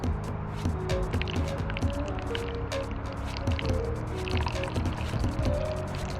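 Water pours steadily into a container, a continuous splashing fill with faint drips and gurgles throughout.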